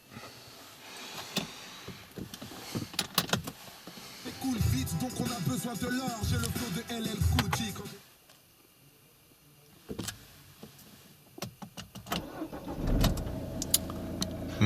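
Citroën DS4 1.6 e-HDi diesel from 2013 starting up: interior clicks and a whirring motor, then a quieter stretch and a brief cranking catch, with scattered knocks and clunks nearby.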